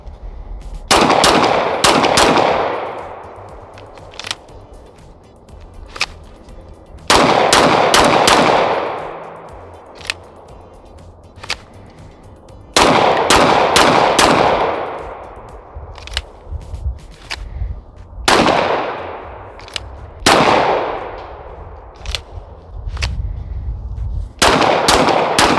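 Rapid strings of sharp, loud shots from a Lone Wolf Arms Timberwolf 19X pistol at an outdoor range, each string ringing into a long echoing tail, with scattered single shots between the volleys.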